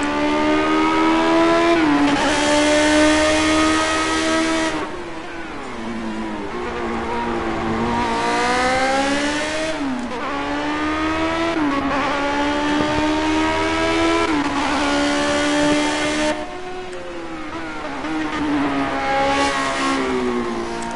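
An old race car in the Project CARS racing game revs and accelerates repeatedly, its engine pitch climbing through each gear and dropping at the shifts, loud and continuous with brief tire squeal and no talking.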